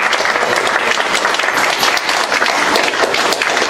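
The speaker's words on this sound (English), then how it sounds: "give a round of applause for yourself for coming out tonight. So everyone clap it up" A live audience at an evening members' town hall claps loudly and continuously, dense applause filling the room without a break.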